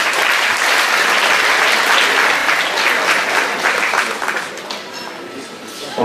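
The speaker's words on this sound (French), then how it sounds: "Madame Sharif, on peut l'applaudir." An audience at a Paris charity gala applauds loudly and steadily, the dense clapping holding for several seconds before thinning out toward the end.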